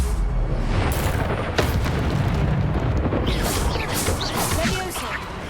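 Casting the Accio spell in the video game Hogwarts Legacy sets off a dense, continuous magical whoosh and rumble with booming impacts layered on top, loud and sustained throughout.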